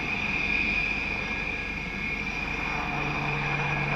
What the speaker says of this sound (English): The light utility helicopter has a hingeless main rotor system carrying new segmented blades, a first for HAL in its helicopter design.